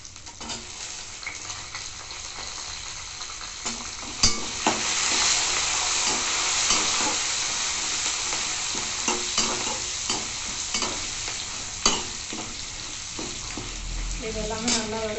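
Ingredients for pirandai (adamant creeper) chutney sauté in a hot pan: a loud, continuous sizzle with repeated scraping stir strokes throughout, and nobody speaking.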